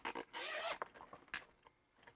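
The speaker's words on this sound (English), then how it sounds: "Inside you get a zipper." A zipper on a hard-shell Nintendo Switch 2 travel case is pulled open with short rasping strokes, then a few quieter scrapes and rustles, close by and fairly soft.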